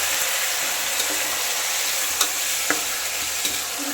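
Tomato and onion fry in oil for tomato bath, a constant close sizzle and hiss with occasional light clinks of a stirring spoon.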